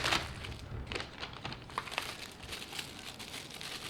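An Omeals food packet with a tear-open top and zip seal being handled, giving a steady stretch of soft plastic crinkling and rustling close by, with a faint tearing texture.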